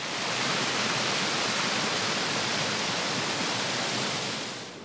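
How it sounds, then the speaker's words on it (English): Twin Falls in Arkansas, where two forks of the Devil's Fork run side by side over 20 to 25 foot drops, gives a steady, dense roar of falling water from start to finish, with no voices. "we finally came to one of the most spectacular waterfalls in the state."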